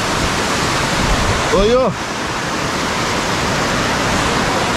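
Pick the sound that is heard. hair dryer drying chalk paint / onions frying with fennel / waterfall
waterfall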